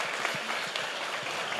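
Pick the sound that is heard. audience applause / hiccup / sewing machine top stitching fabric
audience applause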